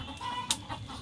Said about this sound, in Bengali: মুরগিগুলো কক কক কক কক করে পাগল হয়ে যাচ্ছে।